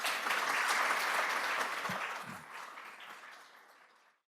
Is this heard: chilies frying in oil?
no